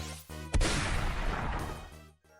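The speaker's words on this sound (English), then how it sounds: "my team exposes itself terribly to a huge Turtonator explosion" A huge Turtonator explosion in the Pokémon Auto Chess video game bursts as a sudden loud boom with a crashing, rumbling tail lasting over a second, then cuts off.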